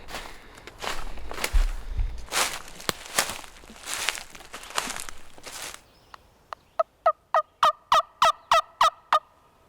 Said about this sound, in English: this one bird is gobbling his brains out